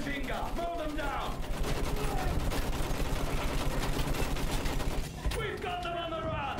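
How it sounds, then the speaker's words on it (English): Sustained machine gun fire in the Battlefield 1 video game, a dense rapid stream of shots running for several seconds, with shouted voices before and after the burst. "Use that machine gun! Mow them down!"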